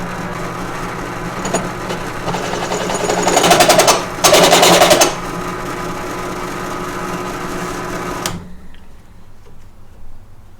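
A drill wobbles out an undersized hole to fit a huck bolt on a steel cradle for a 671 Detroit Diesel engine, a steady whirring grind that surges louder for a few seconds in the middle, then cuts off abruptly near the end.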